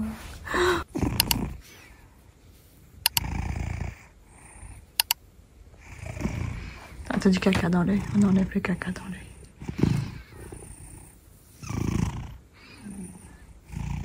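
A cat purrs in low rumbling bursts close by, while a person talks softly over it.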